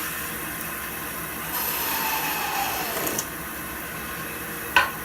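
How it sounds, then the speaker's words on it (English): Wood being parted off on a lathe, a steady whirring hum with a scraping cut that rises and fades, ending in a brief sharp knock near the end, no voices. "I'm going to part it off a little bit back from the base"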